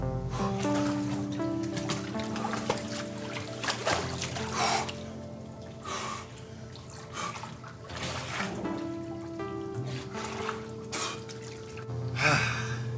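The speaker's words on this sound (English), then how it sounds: "I always go outside for a cold plunge" A person lowers into an outdoor cold plunge, with drips, trickles and sloshing water alongside sharp breathy gasps, in a mix of bursts and pauses over several seconds, up close, with background music.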